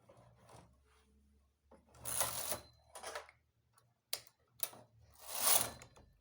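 A knitting machine carriage sweeps a row of cream thread on a baby sweater with two-colour design, giving several loud swooshing bursts with clacking mechanical ticks between quieter pauses.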